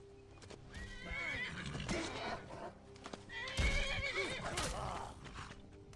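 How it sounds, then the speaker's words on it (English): A horse in the video game Skyrim neighs loudly twice with whinnying cries, while hoofbeats clop underneath in a busy, close scene. "Is my horse just killing this dude?"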